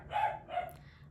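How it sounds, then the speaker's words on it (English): A dog barks twice in quick succession indoors, fairly close and loud, with no talking over it. "I'm so sorry about my dog."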